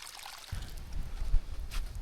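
Mountain stream flowing past a campsite of tents at Phu Soi Dao in the rainy season, a steady watery rush with low churning that swells after the first half second, close and continuous with no talk.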